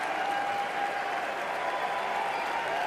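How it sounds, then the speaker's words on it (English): A press conference audience at E3 2013 applauds and cheers in a steady, loud, continuous wash of clapping throughout. "You hear the crowd."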